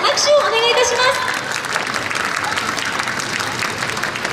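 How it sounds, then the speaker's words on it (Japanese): At the Miss Awamori 2017 pageant in Okinawa, a crowd gives the seven finalists a round of applause, rising after a short stretch of talk and continuing as a steady, full wash of clapping. "皆様どうぞ7名のファイナリストの皆様に今一度大きな拍手をお願いいたします"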